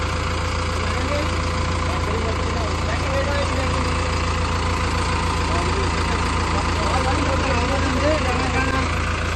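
An Arjun Novo 4x4 tractor's engine idling with a continuous low, steady rumble and hum, loud and close, unchanging throughout.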